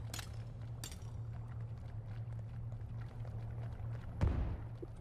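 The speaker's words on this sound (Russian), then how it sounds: "взрыв, как будто кто-то подорвался" A muffled blast with a dull low thud and rumble rings out once in the underwater floor of the horror game Cage (Клеть), set against a steady low hum and scattered faint clicks.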